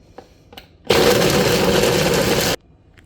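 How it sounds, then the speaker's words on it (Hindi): An electric kitchen grinder whirs loudly for under two seconds as it blends seeds and other ingredients for biotin laddu, starting abruptly and then cutting off cleanly, with a few faint taps before it begins. "अब मैं इसे ग्राइंडर में ऐड कर देती हूँ और अब हम इसे ऑन कर देंगे।"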